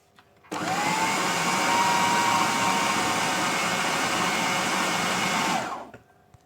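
An electric food chopper minces a chicken burger mixture with ground breadcrumbs. The motor whirs steadily and loudly for about five seconds, starting and stopping abruptly, with no talking.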